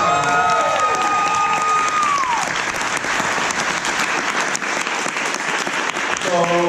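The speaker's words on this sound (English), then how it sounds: "Let's get a round of applause." Loud audience applause with cheering fills a weekend gathering, steady and dense throughout, with a brief melodic tone fading early on and a few voices shouting within the crowd.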